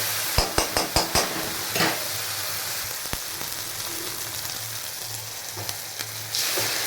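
A mixture sizzles steadily in a hot pan on a home stove. A few quick scraping stir strokes come early, then the frying hiss continues alone, close up.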